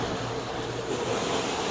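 Water from a hose rinses an area rug during a cleaning job, a steady rushing spray that stays close and fairly loud throughout, with no talk.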